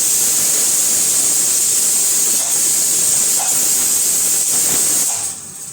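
A large pot of chickpeas boiling for chole gives off a loud, steady, close hiss of escaping steam that runs unbroken before dropping away near the end.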